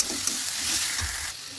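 Fried potato pieces going into sizzling spinach paste for palak paneer, a dense continuous frying hiss with a soft stirring thump midway, close and steady.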